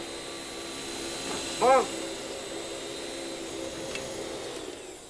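A vacuum cleaner runs steadily on a rug, a moderate continuous drone with a faint whine, while a voice briefly calls out over it partway through.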